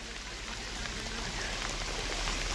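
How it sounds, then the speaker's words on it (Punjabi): Heavy rain pours steadily on a Punjab village with flood-like conditions, a dense, even hiss of drops hammering a surface close by, with no voices or breaks. "ਬਾਲਾ ਮੀਂਹ ਹੈ ਨਾ"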